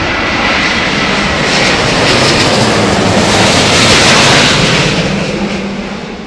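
A Cathay Pacific Airbus A380 jet lands at Heathrow, its engines a loud, continuous broadband roar that swells toward the middle and slowly fades, heard alone without talk.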